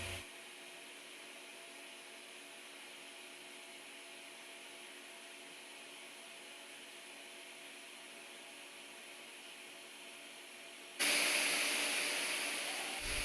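TIG welding a stainless steel root pass in the horizontal 2G position, the ceramic nozzle resting on the joint as filler rod feeds the puddle: a steady, even hiss throughout that grows suddenly louder near the end.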